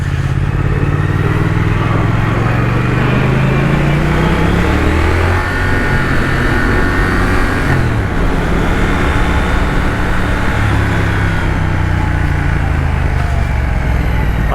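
A 2021 Triumph Thruxton RS on the stock exhaust, its engine loud and close while riding, revs climbing and dropping with gear changes, a steady fairly muted drone throughout.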